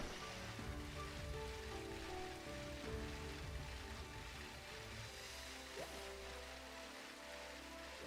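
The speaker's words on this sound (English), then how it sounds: "Always bloody raining." Steady, dense rain ambience from the video game Pokemon Shield, a continuous hiss of falling drops with no voices, holding at an even level throughout.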